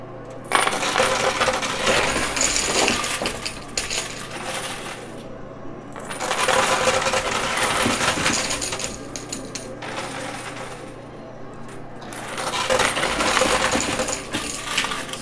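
Coins clatter and cascade in a high limit coin pusher machine, bursts of dense metallic jingling rising and falling in three long waves over a steady mechanical hum.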